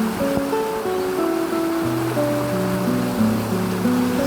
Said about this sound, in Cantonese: 我都好少見呢一條河啲水咁澎湃